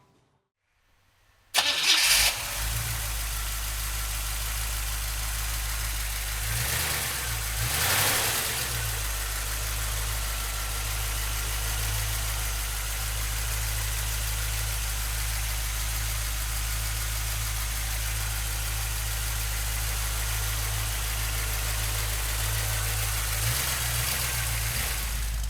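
A 1971 Chevrolet Blazer cranks briefly and catches, then settles into a steady, loud idle that runs on for the rest of the clip with little change.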